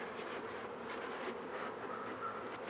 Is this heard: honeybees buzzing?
yes